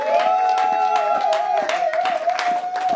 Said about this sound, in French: Applaudissons pour les rois des rois.